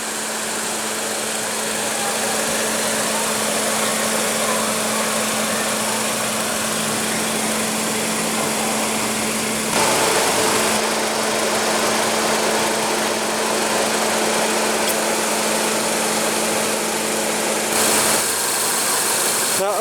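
A 2016 Mazda CX-3's 2.0-liter inline four-cylinder engine idles with a steady, unbroken hum and a constant low drone, close and moderately loud throughout, with no talking heard.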